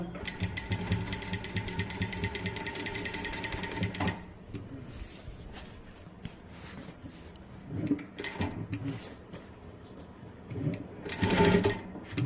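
A sewing machine stitches fabric in rapid steady bursts for about four seconds, then stops; afterwards come faint handling clicks and a few short mechanical whirs, with a voice speaking quietly in the background.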